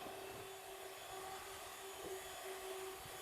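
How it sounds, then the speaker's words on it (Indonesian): An electric mixer blends a drink mixture with a steady, whining motor drone, constant and close with no pauses. "Kita mixer lagi. Mixer. Ya, biar tercampur."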